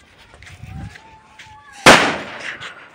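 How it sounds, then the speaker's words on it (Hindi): A single Diwali firecracker goes off with one sharp, loud bang close by, followed by a short decaying crackle, after a quiet stretch with faint background voices and a thin whistle-like tone. "तो अभी हम जला रहे हैं पटाखे"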